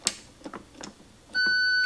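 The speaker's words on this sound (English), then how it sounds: "Now, the one below it should beep as well." A Sencore Super Cricket TF30 transistor tester gives a steady, loud electronic beep that starts near the end, after a few soft taps and clicks.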